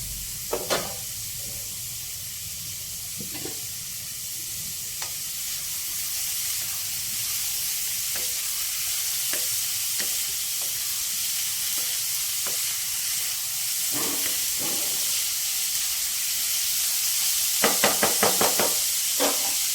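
Onions sizzle and hiss steadily in a hot pan for egg curry, with occasional spoon knocks and stirring clatter, loudest near the end.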